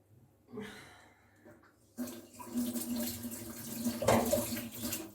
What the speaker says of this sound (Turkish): Bıçağımı yıkayacağım.